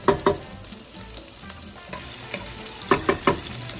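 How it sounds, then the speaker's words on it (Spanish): Puerto Rican sofrito sizzles in a pan over medium heat with a faint steady crackle, broken by several sharp clatters of stirring against the pan. "Dejamos que sofría por unos minutos."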